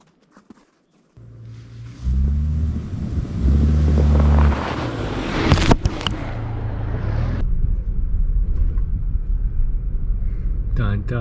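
A car driving through snow toward a remote camp spot: a low engine rumble starts up and continues steadily with wind buffeting and crunchy, noisy texture, and a voice is heard partway through.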